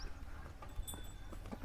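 Hooves of a Jafarabadi buffalo walking on the ground, a few faint, uneven thuds and clops heard quietly at a short distance.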